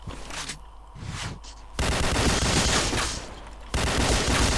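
Gunfire in a shooting video game: bursts of rapid shots with loud, dense stretches of fusillade and brief pauses between, close and prominent, with no talking over it.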